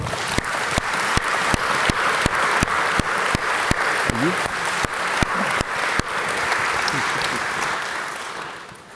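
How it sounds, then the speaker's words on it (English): A room of conference attendees applauds a business panel on affiliate marketing at a corporate event, with steady clapping that fills the whole stretch, dense and close before thinning slightly at the end; a voice is briefly audible under it. "Can I have a round of applause for the panel?"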